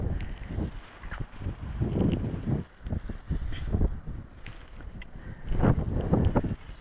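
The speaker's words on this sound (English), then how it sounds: "A little too windy too." Gusty wind buffets the microphone outdoors during setup of a 65-foot carbon fiber pole, rising and falling in low rumbling bursts with no talking.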